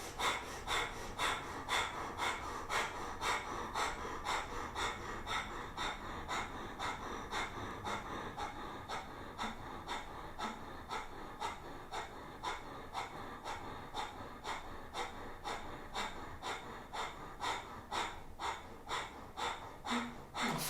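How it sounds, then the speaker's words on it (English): Rapid rhythmic breathing of a breath-of-fire kundalini exercise: quick, even, forceful nasal exhales repeating about twice per second for the whole stretch, close and steady. "Breath of fire."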